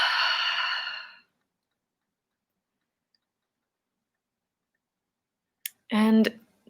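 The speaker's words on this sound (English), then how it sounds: "Exhaling through the mouth." During a breathwork session, a person exhales audibly through the mouth in a long, breathy sigh that fades out, followed by a long silence and then a short voiced breath sound.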